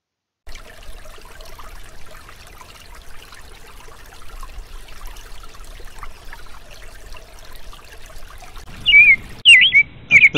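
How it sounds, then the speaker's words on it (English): Faint outdoor ambience with trickling water, then a few bright bird chirps near the end. "A bird called to her"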